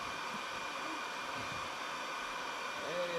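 Heat gun blowing hot air onto a dented plastic car bumper to soften it, a steady close whooshing hiss that runs throughout, with faint voice-like tones at the end.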